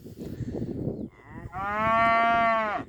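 A bull lets out one drawn-out moo, rising and holding steady before cutting off, close and clear after a short stretch of low, rough grunting.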